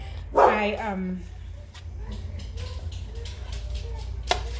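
A dog gives a single yelping bark near the start, followed by quieter room noise and faint movement, with a sharp tap near the end.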